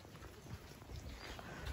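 Hooves of a horse clip-clop at a walk while ridden on a hot, buggy Jamaica excursion, sounding as a soft, steady rhythm of hoof falls under broadband outdoor noise.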